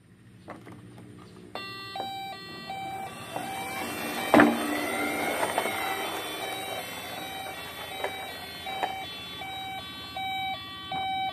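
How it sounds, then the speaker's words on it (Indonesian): A toy ambulance's electronic siren plays a repeating beeping melody with bright tones and clicks, fairly close and steady, with no voices. "Bisa bunyi terus ada lampunya. Ini mobil ambulans."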